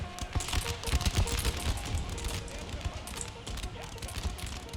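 Crackling musket volleys from massed infantry in Empire: Total War, dense rattling fire rolling continuously under battle noise, with a commanding voice heard over the din.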